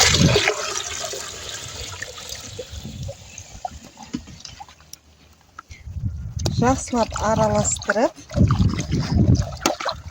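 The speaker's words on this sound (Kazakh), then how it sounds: "Bu күлді салып алғаннан кейін су құямын" Water splashes and glugs into a container of ash in short bursts, with a voice speaking between the pours, while homemade fertilizer is made.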